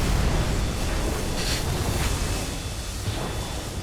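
A torpedo detonating against a ship's stern near the propellers in the UBOAT submarine game, a deep, sustained roaring rumble with a broad wash of noise that stays loud for several seconds before slowly easing off.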